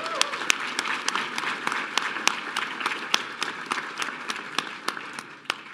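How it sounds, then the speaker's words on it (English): Steady audience applause at an awards ceremony honoring Hall of Fame organizations, dense clapping with sharp individual claps standing out, sustained at moderate loudness and tapering slightly near the end. "Please give them a round of applause."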